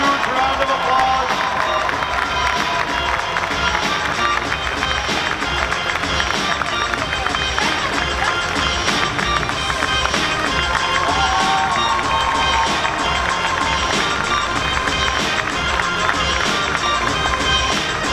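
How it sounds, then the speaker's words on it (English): A crowd at a DreamHack cosplay contest cheers and claps for a prop award winner, a loud, continuous roar of clapping and crowd noise with steady music-like tones underneath, lasting throughout. "A huge round of applause."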